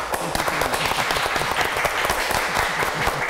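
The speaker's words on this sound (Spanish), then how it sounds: "la recibimos con un fuerte aplauso" Loud audience applause welcoming a guest at a Pandora Slam show, a thick sustained burst of many hands clapping close up, with some faint voices mixed in under it.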